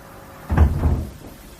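A door closes in a quiet room, a single soft thud with a brief rattle as it settles, fairly close and heard alone.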